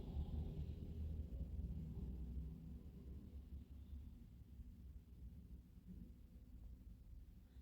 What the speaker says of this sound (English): we've got a thunderstorm going on